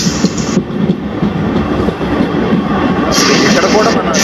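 A passenger train with general coaches on the Vizag to Delhi route rumbles and clatters loudly as it runs out of tunnels, a steady close roar of wheels and carriage noise heard from inside.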